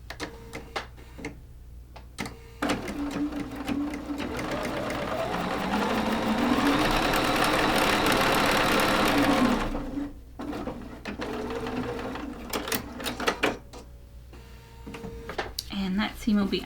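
Sewing machine stitching fabric pieces together for a quilt block, a steady whirring run of several seconds with a light mechanical ticking, starting and stopping around a few short bursts, with talk nearby.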